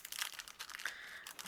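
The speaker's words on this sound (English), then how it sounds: "And I'm going to add some tape here and tape it down." Tape is pulled and pressed down on a handmade card, giving close, light crinkling and tearing rustles in short bursts, including one brief squeaky strip sound partway through, with no talking.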